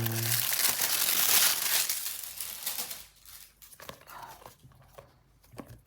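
Plastic wrap crinkles and crumples loudly for a few seconds as a new manga volume is unwrapped, then softer rustling and handling noises follow in a quiet room.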